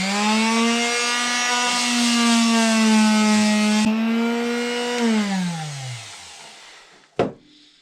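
An orbital power sander works over both faces of a wooden ball block, a loud steady droning hum that holds for several seconds, dips in pitch as it winds down, then ends with a sharp knock.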